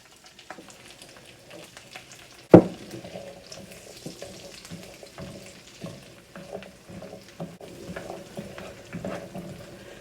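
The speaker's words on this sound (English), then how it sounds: "Into this butter, we're going to add our celery." Chopped celery hits hot butter in a pan for old-fashioned stuffing with a sharp splash, then settles into a steady, close crackling sizzle with light stirring and no talk.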